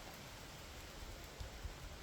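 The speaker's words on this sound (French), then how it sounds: "La pluie, l'orage," Soft, steady patter of rain, a faint broadband hiss with occasional heavier drops, no voices.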